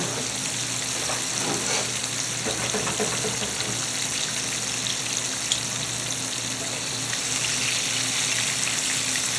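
Catfish frying in oil over medium-low heat for a po'boy sizzles in a continuous, even crackle, close and alone, with no talking over it.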